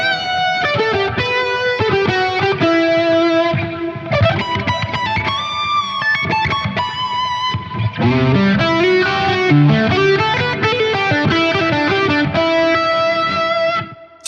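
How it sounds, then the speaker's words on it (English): A Nik Huber Dolphin 59 electric guitar on its bridge pickup plays a high-gain distorted lead, a continuous stream of sustained bends and fast note runs for about fourteen seconds, loud and steady with no talking. "let's check out some high gain lead tones"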